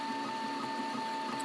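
A 3D printer lays down its first layer with a steady whining stepper-motor hum and faint rhythmic pulsing, close and continuous.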